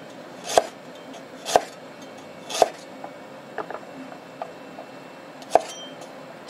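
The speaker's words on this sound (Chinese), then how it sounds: "切2片生姜" A knife chops through ginger on a cutting board, several sharp, distinct knocks spaced about a second apart, close and fairly quiet against a still kitchen.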